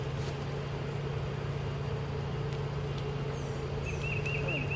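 Honeybees with a mated VSH queen buzz steadily around an open hive, a continuous close droning hum under faint background noise and a few brief clicks.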